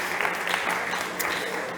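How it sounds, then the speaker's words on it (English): An audience at a startup pitch competition on mobility claps for a presenter. The applause is close, dense and continuous for a brief moment. "Big applause for Jose."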